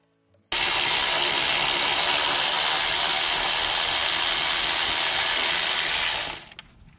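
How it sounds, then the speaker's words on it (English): An electric ratchet spins bolts out of a car's starter motor in one loud, continuous whirring run lasting about six seconds, then cuts off abruptly. "My electric ratchet makes that fast, but I had to break them free by hand first."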